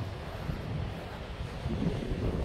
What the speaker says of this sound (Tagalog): Ang laki ng alon mga kamigs.